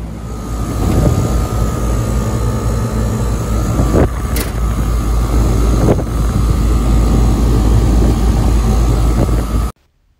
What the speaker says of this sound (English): Turn on the breaker. It is, the unit just started spooling.